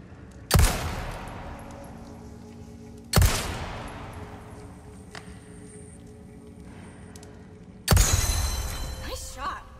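Three loud, sharp gunshots from the Resident Evil 4 Remake video game, spaced a few seconds apart, each followed by a short decaying echo over a quiet ambient background.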